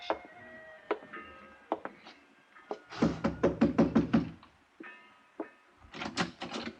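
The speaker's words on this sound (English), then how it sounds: "Come in, Mr. Dollar" Knocking on a door in a radio drama: a few single raps, then a loud, close burst of rapid knocks, followed by scattered knocks, with no talk.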